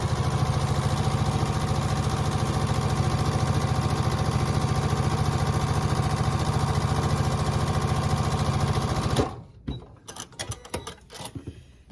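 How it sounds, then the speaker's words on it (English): A sewing machine runs steadily for about nine seconds, stitching quilt block pieces with a fast, even mechanical whir, close by, then stops and leaves a few scattered clicks and handling noises. "Just going to sew these down"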